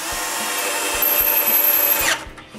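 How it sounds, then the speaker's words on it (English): A screw gun whirs continuously for about two seconds as it drives a wood screw into a wooden window frame in a workshop, ending with a brief clatter as it winds down. "So I begin by screwing middle wood screws."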